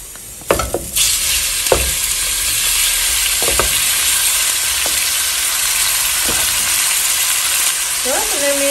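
Long strips of beef steak hit a hot cacerola with a sudden loud sizzle that settles into a steady, close frying hiss, punctuated by a few soft clinks and taps.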